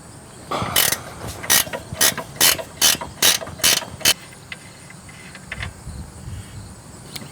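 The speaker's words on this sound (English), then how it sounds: "using two 17mm combination wrenches, we will loosen our mounting bolt" Two 17mm combination wrenches work a brake caliper mounting bolt loose on a 2008 Hyundai Elantra 2.0L, giving a run of about eight sharp, evenly spaced ratcheting clicks up close, followed by faint scattered ticks.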